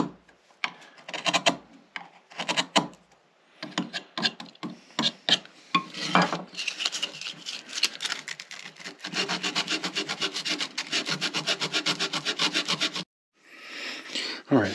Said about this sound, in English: I'm actually going to use a chisel up here because the sandpaper just cannot get close enough.